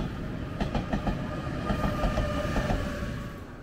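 A train rolls past on the railway with a steady rumble and rhythmic clickety-clack of wheels over rail joints, fairly close and easing off slightly at the end.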